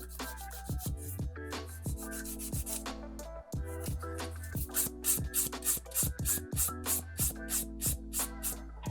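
Steady scratchy rubbing as a sculpted ballerina-shaped nail is filed, contouring its surface and shaping the edge. Repeated strokes run close and moderately loud over a tonal music bed.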